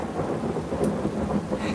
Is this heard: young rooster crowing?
no